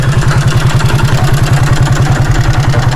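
A motorcycle engine runs close by with a loud, steady, rapid thumping throb that holds at an even level the whole time, without a clear rise or fade.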